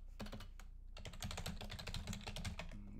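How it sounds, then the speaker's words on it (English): Continuous typing on a computer keyboard while entering login credentials, with rapid, steady key clicks close up over a low background hum and no voices. "Go ahead and type in my username and password."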